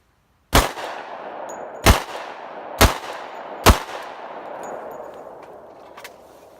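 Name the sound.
Glock 29 Gen 4 pistol being fired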